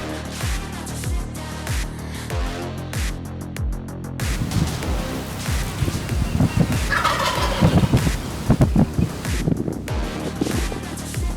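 Wild turkey longbeards gobbling outdoors on an Oklahoma hunt, repeated rattling gobbles rolling in quick succession, fairly loud and near, with wind or rain-like noise behind.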